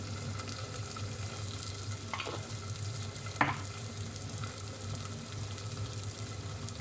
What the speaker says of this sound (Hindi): अदद आप टमाटर डाल दें और इसको अच्छी तरह हिला लें